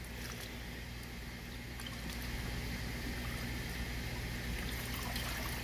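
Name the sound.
SCBA masks being rinsed in a water rinse bin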